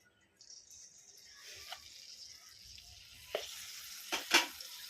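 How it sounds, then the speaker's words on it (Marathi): Cumin seeds and red chili powder frying in hot oil, a steady soft sizzle that swells with sharper crackling bursts near the end, close and moderately loud with no talking. "आपण आता त्यामध्ये थोडेसे जिरे टाकून घेऊया त्यानंतर लाल मसाला टाकून घेऊया"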